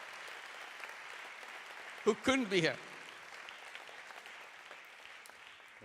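Steady crowd applause fills the hall at a grand opening ceremony in Turin, continuing throughout while a voice briefly speaks over it midway.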